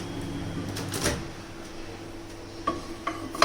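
A baking dish of apple crumble set into an oven, giving a few light clinks and a dull knock of ceramic against the rack near the end, close by, with low kitchen hum and no talk.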